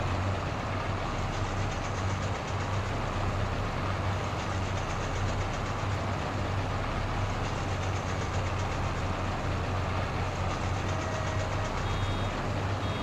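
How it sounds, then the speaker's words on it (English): A baler in Farming Simulator 22 picks up grass, giving a constant loud mechanical drone with a steady low hum and repeating high beeps throughout. "Turn it on, lower the pickup,"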